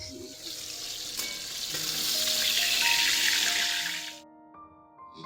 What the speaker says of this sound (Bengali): দেখো এই যে পাবদা মাছটা ভাসছে তা তো কিন্তু আমি খুব ভয়ে ভয়ে দিচ্ছি যা জোরে জোরে ফাটছে